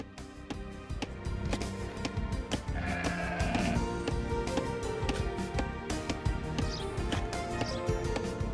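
Sheep bleat repeatedly in the Age of Empires 2 video game, layered over a busy, continuous mix of game sounds and music with clicks and tapping, fairly loud throughout.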